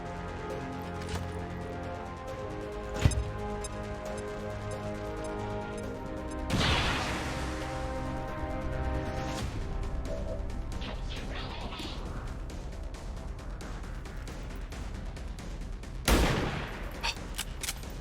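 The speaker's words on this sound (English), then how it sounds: "Grenade!" A grenade blows up in the video game XCOM 2: a sudden heavy blast burst mid-clip and another sharp one near the end, set against a busy backdrop of game effects and gunfire-like cracks.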